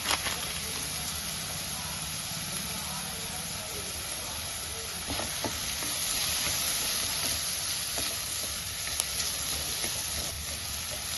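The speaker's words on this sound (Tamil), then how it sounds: "கொஞ்சம் நல்லா இது வதங்கட்டும்" Masala spiced with Kashmiri red chilli powder sautés in a pan for homemade butter chicken masala, giving off a soft, steady hiss and sizzle with a few faint stirring scrapes.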